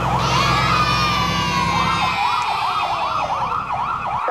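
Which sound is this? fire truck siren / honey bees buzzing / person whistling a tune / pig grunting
fire truck siren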